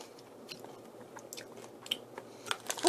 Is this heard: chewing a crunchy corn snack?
yes